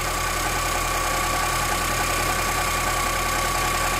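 Car engine running steadily during a battery charging test, held at raised revs with a constant, even drone and a strong low rumble throughout, no voices.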